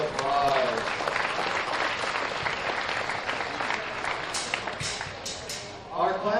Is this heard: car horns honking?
no